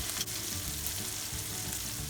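Ground sambal spices for pindang fish with terasi and kecombrang sizzle steadily in leftover cooking oil, a loud continuous frying crackle with faint stirring scrapes and no talking.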